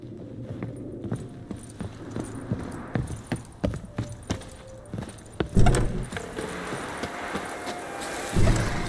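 Horse hooves clip-clopping in the Witcher 3 video game, a run of sharp, close, irregular hoof strikes that thicken into a busier, louder patter near the end.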